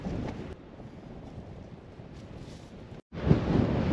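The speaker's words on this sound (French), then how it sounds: "Toujours autant de vent, voire plus." Wind buffets the microphone in rough, low gusts in Latvia, cutting out abruptly for a moment before returning stronger.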